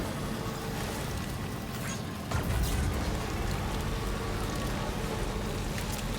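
Timefall rain in Death Stranding 2 falls as a continuous dense patter and hiss, and it swells slightly partway through with a heavier, closer downpour. No voices are heard over it.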